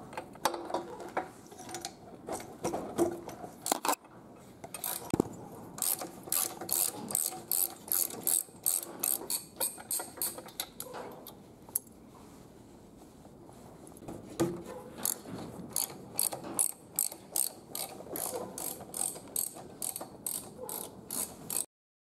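A ratchet wrench removes spark plugs from an aircraft engine, making rapid bursts of sharp, close clicking with short pauses between runs of strokes.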